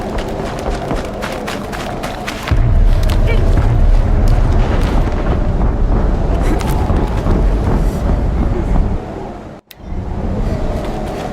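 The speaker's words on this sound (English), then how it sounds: "An explosion." A heavy explosion in the video game Horizon Zero Dawn bursts in suddenly and loudly, then rolls on as a dense, sustained low rumble with a brief sharp dropout near the end.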